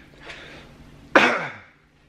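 One person coughs and clears their throat after water went down the wrong pipe: a soft first rasp, then a louder, harsh hacking burst that fades into quiet.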